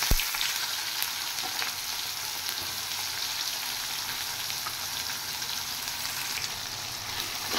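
Chopped onions fry in hot oil in a steady, loud, hissing sizzle that runs unbroken throughout, with a single clunk of the pan at the very start.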